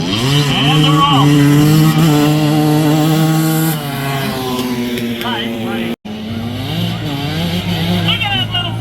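Side-by-side UTV engines roaring off the starting line at a county fair race, loud droning revs climbing in pitch, then a brief cut before more engine whine continues, with an announcer talking over it.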